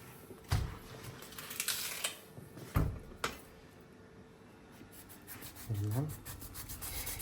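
A knife saws through a pineapple's tough rind in a few rough, rasping strokes, with scraping and light knocks against a cutting board in between.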